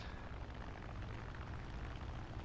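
Steady propeller engine drone of a P-51C fighter plane in War Thunder air realistic battle, loud and continuous with no voices over it.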